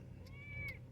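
A cat gives a single short meow, a thin rising-and-falling tone over a steady low rumble of background noise, fairly faint and with no talking.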